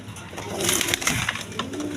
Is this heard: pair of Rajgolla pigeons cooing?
yes